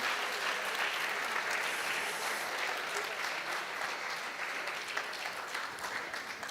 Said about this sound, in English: We just can't stop clapping.